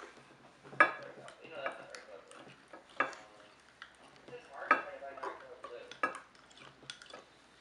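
Corn starch being mixed in a bowl by a child, heard as sporadic clinks and taps of a utensil against the bowl with soft stirring between them, fairly quiet, and voices talking in the background.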